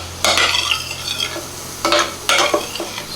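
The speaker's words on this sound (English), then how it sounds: "Stir it around, mix it all together." Chopped celery and onions sauté in butter while a utensil stirs them. Loud, close bursts of scraping and sizzling come in several separate strokes, with quieter frying between them.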